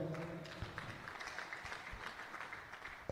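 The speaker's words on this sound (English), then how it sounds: "A round of applause for them." Brief applause from an audience at a ministry training centre event, honouring Department of Social Welfare members, a soft continuous patter of clapping with a few louder claps, fairly faint and alone.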